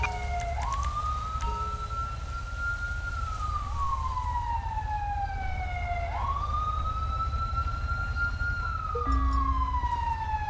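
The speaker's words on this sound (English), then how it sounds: "Requesting EMS. Ambulance. Assistance required in Grande Sonora Desert." An ambulance siren in the police game GTA V LSPDFR wails in long, slow rising and falling sweeps, loud and continuous over a low engine rumble, with no talk.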